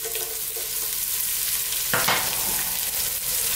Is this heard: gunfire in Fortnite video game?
no